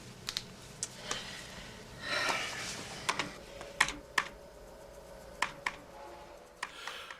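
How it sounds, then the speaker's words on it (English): Typing on a computer keyboard: sparse, crisp key clicks arrive in an uneven rhythm, close and fairly quiet over a faint background, with a short busier flurry of keystrokes near the start and no speech. "Just use the keyboard."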